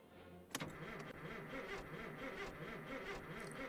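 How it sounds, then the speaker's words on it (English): A truck engine in My Winter Car cranks and catches with a sharp start, then settles into a steady, fairly loud idle that rumbles on alone. "Might as well get the shit truck warmed up while we're prepping."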